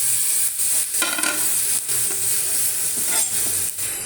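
Cooked lemons for lemon pickle are stirred in a hot pan, with a constant sizzle of frying under repeated scraping strokes of the spoon against the pan, close and without talk.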